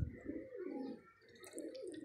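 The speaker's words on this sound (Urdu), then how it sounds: "شہزادہ کبوتر نال نیلی ڈبی مادی" Domestic pigeons cooing close by in a loft, two soft, throaty rolling coos in quick succession with a faint higher chirp near the end.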